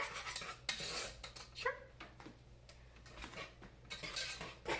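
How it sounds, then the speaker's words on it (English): Vanilla custard for mille-feuille is whisked in a bowl, producing quick scraping and clinking metal strokes against the dish in bursts, quiet and close, with a brief word spoken. "Keep on whisking."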